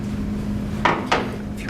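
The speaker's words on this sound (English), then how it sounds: "Door opens up." The door of an Amphenol ODT 3500 enclosure box, fitted with a lock and two security screws, swings open with two short, close clunks about a quarter second apart over a steady low hum.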